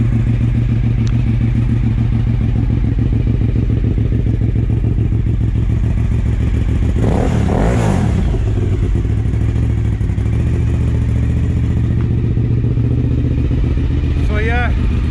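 A motorcycle engine fires straight up on the starter and settles into a loud, steady, rough idle close by, with someone talking over it.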